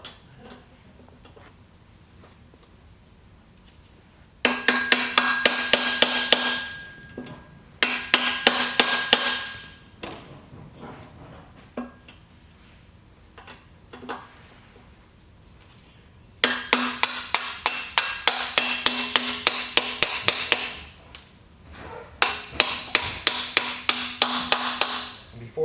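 Repeated hammer blows drive the handle axle into the pump of a Crown pallet jack, in two close, loud bursts of rapid metallic strikes separated by quieter pauses with faint tapping.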